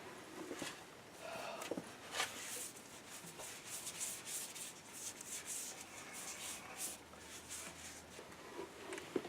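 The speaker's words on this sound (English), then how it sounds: "And then you sand it?" Hand sanding a vanity sink during refinishing: steady, continuous scratchy rubbing strokes that carry on throughout at a moderate, even level.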